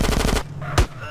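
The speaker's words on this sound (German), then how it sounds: "Sweet hinten drauf mit einem Sturmgewehr." Assault rifle fire in GTA San Andreas: a rapid burst of about six close, loud shots, then a brief pause and one more heavy blast.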